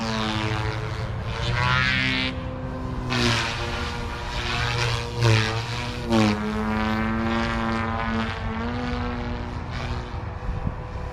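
Two RC helicopters, an OMP Hobby M4 and a Goosky RS4 Venom, pass in fast forward flight at high head speed, their motors and rotors giving a steady loud whine whose pitch rises and falls as they pass nearby, with no talk.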